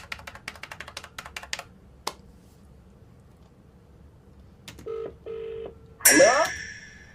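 A telephone keypad is dialed in a quick run of about a dozen short tones, followed after a pause by a few longer tones and a sudden loud burst as the call connects, heard near and with no talk.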